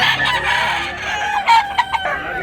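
A rooster at a fowl market lets out a loud, close crow, a strained, wavering cock-a-doodle-doo that breaks into short bursts near the end over a low background murmur.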